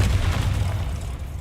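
A Confringo fire-blast spell in Hogwarts Legacy lands as a single heavy, close boom with a deep rumbling body that fades slowly over a second and a half.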